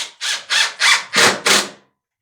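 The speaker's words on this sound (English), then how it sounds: "I guess you call this a impact drill, and I like to make that sound happen." Five quick, loud bursts from an impact drill driving screws into drywall during a bedroom remodel, each a short buzzing whir with brief gaps between, close up and with no talking over it.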